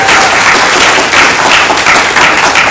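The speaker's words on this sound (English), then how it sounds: "please give a round of applause to Prof." Loud, close applause from an audience at an interfaith dialogue event, dense continuous clapping with no voices over it.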